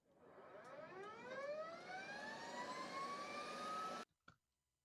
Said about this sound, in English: the engine's starting up, how they sound super, uh, similar to an ASC T128 air raid siren